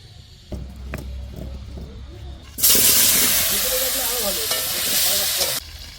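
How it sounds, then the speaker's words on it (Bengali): Chicken leg pieces simmering into a thin, village-style Bengali curry in a pan: a loud, steady hiss and sizzle bursts in after a quieter stretch, runs for about three seconds with faint clatter inside it, then drops away sharply. "আমাদের মেজাজ সাহেব রান্না করছে আজকে সব লেগ পিসের একটা ঝোল বানাবে"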